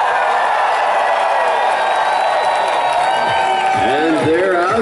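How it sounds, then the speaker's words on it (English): Egyptian fans cheering at a beach volleyball match, a continuous loud crowd roar with whoops and rising shouts, and an announcer's voice running over it. "And they're out there in full force, the Egyptian fans blaring."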